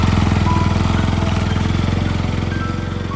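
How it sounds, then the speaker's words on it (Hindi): A motorcycle engine runs with a steady, rapid mid-low pulsing, holding fairly loud and even throughout with little change in distance, set against a quiet outdoor background with no talking. "दूर से बाइक की आवाज आई।"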